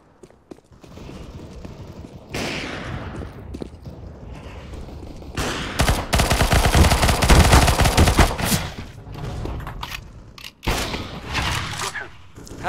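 Shotgun fire in the shooter CS:GO: several heavy blasts and clattering shots, with a dense, loud stretch of rapid firing in the middle and scattered single reports before and after.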